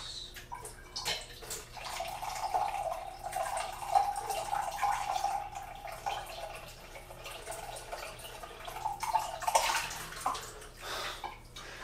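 Potent juice drink poured from a juicer into a mug over a sink, a continuous splashing liquid stream that rises and swells, with drips, close and fairly quiet, no talk.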